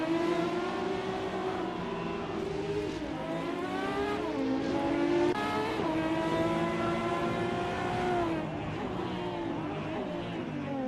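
A 1970 Ferrari 512 race car revs its engine at the race start at Kazan Ring in a racing video game, a loud, continuous multi-tone engine howl that rises and dips with throttle changes and gear shifts, with no talk.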